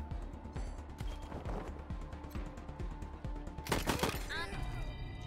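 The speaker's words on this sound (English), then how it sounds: "So Jack should be able to shoot" Gunfire in the video game Wasteland 3 comes as a quick run of shots, ending in a louder crashing burst near the end, set over low game ambience and a speaking voice.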